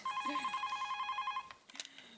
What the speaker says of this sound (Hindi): घंटी बज रही है कब से।